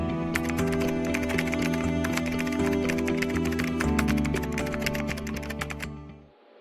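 Rapid, steady keystrokes clatter on a computer keyboard as code is typed, a dense run of close clicks over a faint background hum that stops near the end.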